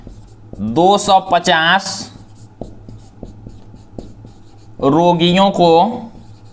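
A pen writes out a Class 9 maths solution on paper, its faint scratches and light taps falling in the pause between stretches of a man's Hindi speech.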